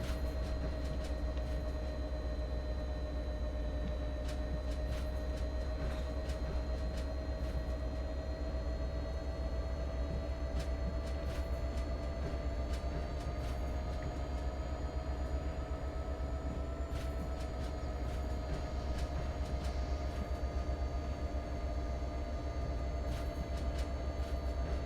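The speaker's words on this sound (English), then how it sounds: "Not time for this slow train roll." A train rolls slowly in a train driving video game, a steady low engine hum with a constant drone and faint high tones running unbroken throughout, with no voices.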